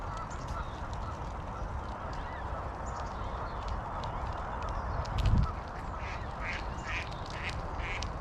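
Ducks quack repeatedly beside a river during a bike ride, the calls moderately near over steady wind and rushing ambient noise, with a brief low thump midway.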